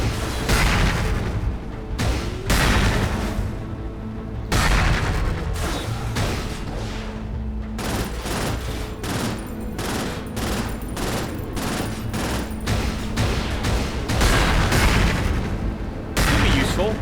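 Rockets burst in rapid, repeated explosions in the sci-fi shooter Cryptark, a dense and loud barrage of booms and gunfire-like blasts with brief gaps, close up and continuous throughout.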